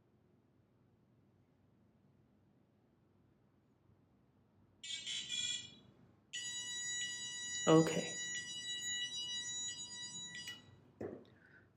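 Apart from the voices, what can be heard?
Petoi Bittle robot dog board beeping, battery not connected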